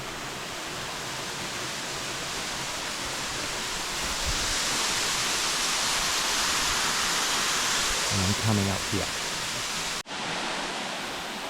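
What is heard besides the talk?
waterfall in the Tahiti jungle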